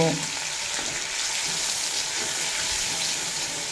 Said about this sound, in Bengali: খুব ভালোভাবে কষিয়ে নেব দেখুন মশলার কাঁচা গন্ধ চলে যাওয়া পর্যন্ত কষিয়ে নিয়েছি